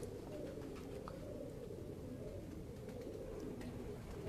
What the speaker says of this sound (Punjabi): ਇਹ ਛੱਤ ਵਾਲੇ ਕਬੂਤਰਾਂ ਦਾ ਕੀਤਾ ਜੀ